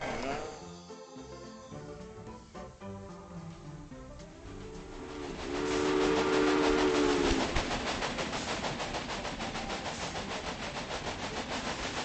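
Steam locomotive in the video game Railway Empire, with rolling train rumble and clatter; a whistle-like tone sounds midway, then the running noise continues steadily, fairly loud throughout.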